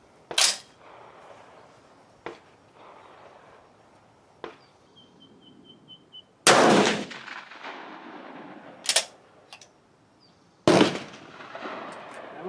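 Rifle shots fired through a chronograph during load development, several sharp loud cracks spaced seconds apart, each followed by a brief decaying echo, with quieter clicks between and no talking.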